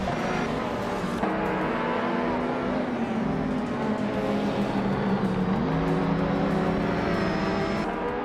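Race car engines roar and rise in pitch as cars launch off the start line in a racing game, including a 1987 Ferrari F40, a loud sustained drone with shifting engine tones and a gear change partway through.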